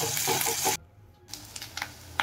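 Garlic paste and ginger paste frying in a pan for chicken dopiaza, a steady sizzle broken by a short near-silent gap, then quieter sizzling with soft scraping stirs, no talk.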